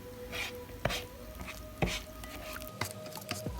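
A spoon stirs and scrapes an ayurvedic powder hair mask paste in a bowl, with regular soft knocks against the bowl over a steady hum, close and fairly quiet.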